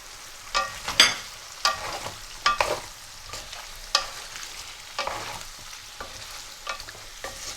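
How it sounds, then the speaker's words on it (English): Chili powder and turmeric being stirred together in a pan, giving a series of irregular scraping, rustling strokes close by with a faint sizzle underneath and no talk. "I'm just going to mix these together until they're all nicely coated"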